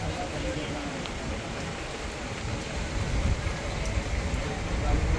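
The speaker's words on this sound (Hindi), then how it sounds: "बाहर देख ही सकते कितने ज़ोर में बारिश हो रही है।" Heavy rain pours at night on a fishing boat jetty, a dense, steady broadband roar of rainfall that swells slightly louder toward the end, with no clear voices.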